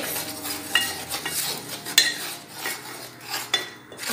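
A spoon stirs chocolate mug cake batter, clinking and scraping against the mug in irregular bursts with sharp taps, close and moderately loud.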